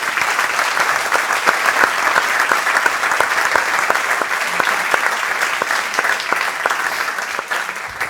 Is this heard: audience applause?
yes